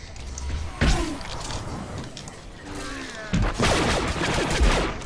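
Artillery emplacement fire in a Star Wars: The Old Republic player-versus-player warzone on Novare Coast, with heavy booming blasts near 1 and 3.5 seconds over continuous battle noise and a brief spoken line.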